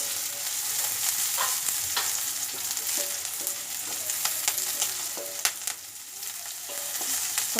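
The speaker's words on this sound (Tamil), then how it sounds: "கருவேப்பிலை போட்டு வதக்கிக்கோங்க. ஸோ அடுப்பை சிம்லே வச்சு வதக்குங்க." Onions, green chilli and curry leaves sautéing over a low simmer in a pan: a steady, close sizzle with scattered stirring scrapes, heard alone without talk.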